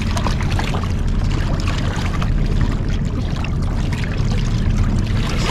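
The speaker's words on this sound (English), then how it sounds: "ready for the waves, Chloe?" Waves slap and splash against a small boat with an electric motor at North Haven, a continuous loud rushing wash of water close by with no pauses.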